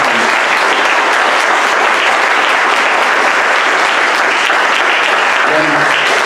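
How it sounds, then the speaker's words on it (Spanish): A church congregation applauding in praise, a dense, loud and sustained wash of many hands clapping that fills the room for the whole stretch, with a voice rising faintly near the end. "¿Puedes darle un aplauso de alabanza al Señor?"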